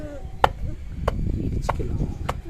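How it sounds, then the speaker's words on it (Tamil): Roasted peanuts are pounded in a kitchen, four sharp, evenly spaced thuds about half a second apart, close and distinct over a low background murmur. "இடிக்கலாம். நல்லா இடிச்சிக்காங்க."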